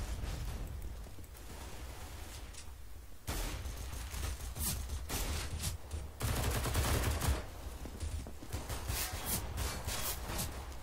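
Gunfire in the video game CS:GO, including sniper shots, comes in bursts of sharp shots and rapid volleys across a match. It is moderately loud, with no speech.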